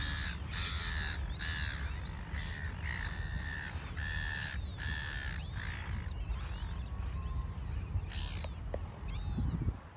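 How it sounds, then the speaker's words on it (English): Many seagulls calling on a beach at sunrise, repeated harsh squawks and cries in close bursts over a steady surf and wind rumble, with no talk. "And also so many seagulls."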